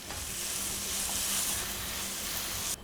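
Frozen peas sautéing in a hot tawa give off a steady, close sizzle with a soft hiss that holds even for a few seconds, then cuts off briefly near the end; no voices.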